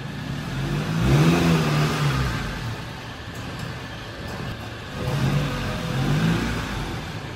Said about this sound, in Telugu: ఇంకా ఫైనల్గా కార్ కూడా తీస్తున్నా, ఇంకా స్టార్ట్ అయిపోయింది.